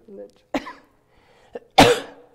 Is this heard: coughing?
yes